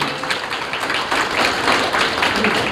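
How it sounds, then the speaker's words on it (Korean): Audience at a forum founding ceremony in a memorial hall gives loud, dense applause, a steady wash of many hands clapping together for the whole stretch. "다시 한번 큰 박수 부탁드리겠습니다"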